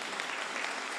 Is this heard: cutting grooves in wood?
no